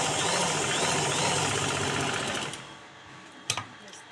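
A sewing machine runs steadily while stitching a cotton blouse, its dense rhythmic whir close and loud for about two and a half seconds before slowing and stopping, followed by a couple of brief clicks.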